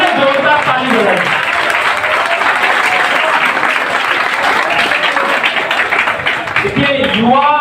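An audience at a BJP district event claps loudly and steadily, the dense applause filling the span between a speaker's voice at the start and again at the end.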